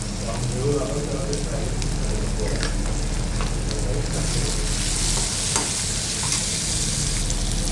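Tomato and garlic sizzle in a pan while being sautéed for Maharashtrian bhendi bhaji (okra curry), a steady close frying crackle with stirring scrapes and someone talking over it.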